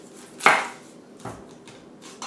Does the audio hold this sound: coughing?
no